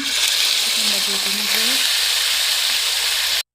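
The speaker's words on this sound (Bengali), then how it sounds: "এখানে ফ্রাই প্যানে তেল ঢেলে দিছি পেঁয়াজ কুচি রসুন কুচি টমাটো আদা কুচি" Onion, garlic, tomato and ginger fry in oil in a frying pan for a chicken curry base, giving a loud continuous hissing sizzle with a faint voice underneath before it cuts off abruptly.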